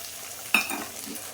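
Egg cooks in a hot wok over a raised gas flame and is stirred round, giving a single sharp scrape against a soft background sizzle, with no talking.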